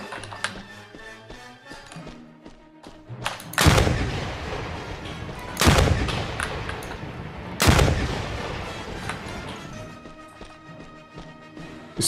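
Three loud rocket blasts from a weapon in the shooter game OPSL, roughly two seconds apart, each a sharp boom with a rumbling tail over steady game background noise.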